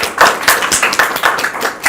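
An audience at a political debate forum applauds in short, close bursts of clapping that rise and fall rhythmically for a couple of seconds, with no talking over it.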